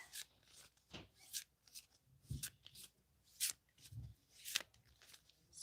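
Tarot cards are shuffled by hand up close, giving soft repeated riffles, flicks and rubbing slaps in an irregular rhythm, quiet and with no talking.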